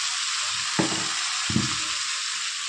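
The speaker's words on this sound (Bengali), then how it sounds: "আমাদের মশলা কষানো হয়ে গেছে, মশলা থেকে তেল ছেড়ে দিতে।" Onion, turmeric and cumin masala frying in oil in a pan, a steady close hiss of sizzling throughout with two brief soft knocks of a stirring utensil.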